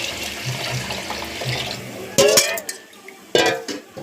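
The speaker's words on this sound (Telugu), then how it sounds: "వాటర్ పోసుకుంటాను." A soft sizzle gives way to two loud splashing pours of water into a pot, each followed by bubbling and a metallic clatter.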